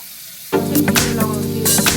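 Tap water runs steadily while a face is washed during a Korean skin care routine, a close hissing splash that starts abruptly and continues with small surges.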